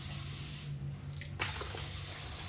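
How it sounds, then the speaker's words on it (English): Water running and splashing steadily, like a tub or tap flowing, a continuous broadband rush with a low hum underneath and one brief louder splash partway through, no voices. "It's water."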